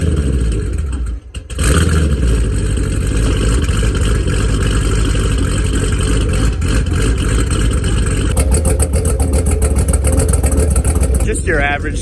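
A twin-turbo Chevrolet Camaro 1LE, freshly tuned, fires up and settles into a steady loud idle with a rough, throbbing rumble, held close and continuous with a voice speaking over it.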